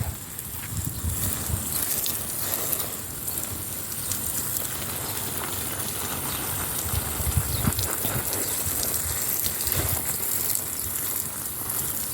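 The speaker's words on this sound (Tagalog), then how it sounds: "Spray-spray lang." A garden hose sprays water onto saluyot plants in a small backyard garden, a steady broadband hiss and patter lasting throughout with no talking.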